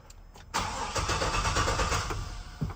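A car that has sat indoors unused for a week cranks and catches, a brief starter whir giving way to a steady, loud, close idle rumble that lifts slightly near the end, with no one talking.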